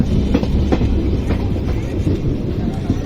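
A DEMU express train rumbles steadily nearby as it arrives at a station, wheels clicking at a regular rhythm over the tracks with a low continuous roar.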